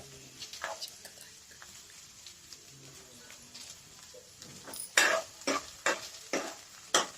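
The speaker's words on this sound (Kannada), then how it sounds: "ಹುರಿದುಕೊಂಡು ಜೊತೆಗೆ ಸ್ವಲ್ಪ ಬೆಳ್ಳುಳ್ಳಿಯನ್ನು ಹಾಕಿಕೊಳ್ಳೋಣ" Garlic frying in a pan while okra is being fried: quiet sizzle at first, then a run of louder scraping stir strokes near the end, close by, with faint background sounds.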